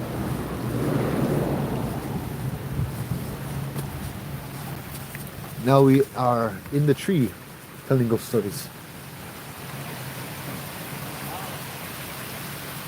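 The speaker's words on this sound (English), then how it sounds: "Look at that rain." Heavy rain pours steadily at Kualoa, a broad continuous wash with low rumbling that may be thunder, while several people talk over it in short bursts near the middle.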